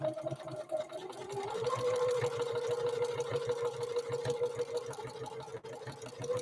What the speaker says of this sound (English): I'm going to do this 3-point zigzag down through this canvas now.